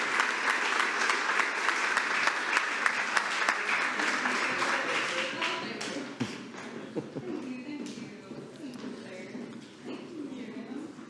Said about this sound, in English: Let's give the art students a round of applause.